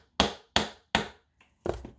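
A hammer strikes four times, three evenly spaced taps, then a faint knock and a final tap, crisp and close in an otherwise quiet room.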